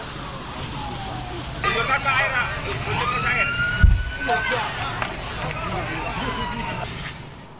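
Fire engine sirens wailing at a fire in Bekasi, Indonesia, rising and falling tones sweeping over a noisy scene, with a sudden thump partway through and a news presenter speaking over it.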